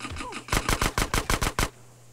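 Automatic gunfire in GTA San Andreas: a rapid burst of about eight loud, evenly spaced shots, then quiet game ambience.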